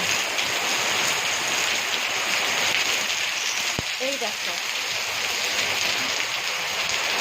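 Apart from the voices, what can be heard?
heavy rain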